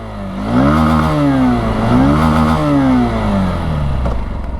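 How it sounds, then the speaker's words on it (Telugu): A 2024 Honda SP 160 motorcycle engine revs up and down repeatedly through its exhaust, the pitch rising and falling in loud, close surges with no one speaking. "ఎగ్జాస్ట్ సౌండ్ వినండి."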